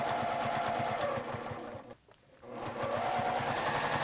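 A sewing machine stitches a seam in orange thread on a small fabric trinket tray, its fast steady mechanical whir running close and loud, dropping out briefly midway before resuming.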